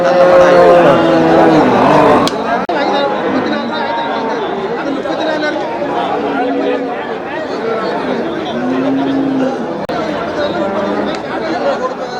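Cattle moo repeatedly, long low calls rising over the steady chatter and crowd babble of the busy Melapalayam cattle market.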